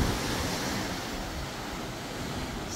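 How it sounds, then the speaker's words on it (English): Ocean waves and surf wash steadily below a cruise ship balcony at sea, with a continuous broadband rush and some wind buffeting the microphone, no voices. "Nothing but ocean."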